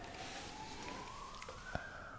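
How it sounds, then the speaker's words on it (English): Emergency vehicle sirens wail outside, heard faint and distant as a single slowly rising tone under quiet room noise, with a small tap partway through. "There have been sirens before, but never that many in a day"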